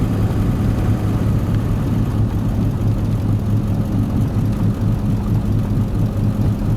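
A 2002 Ford F250 with a bad wheel bearing produces a steady low grinding, rotating drone while driving, heard from inside the cab, continuous and fairly loud with road and engine rumble beneath.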